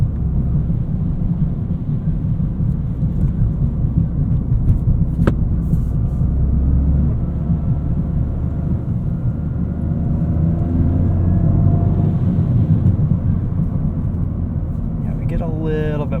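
A 2023 Toyota GR Corolla driving on the street in sport mode, its engine a steady low rumbling drone inside the cabin, with a voice talking over it.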